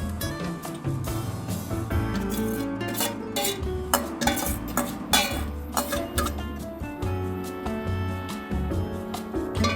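Metal utensil scrapes and taps against a frying pan in irregular strokes as eggs are spread in hot oil, with a steady sizzle and some background music underneath.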